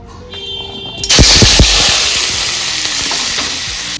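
Chicken tikka frying in a karahi at an outdoor birthday party, starting with a sudden loud hiss as food hits the hot oil, a few sharp spatters and pops, then a steady close sizzle.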